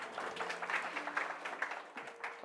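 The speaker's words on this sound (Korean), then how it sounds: "박수하겠습니다" Congregation clapping during a Korean church Sunday service after a prayer, soft scattered applause at low level with a faint held tone underneath.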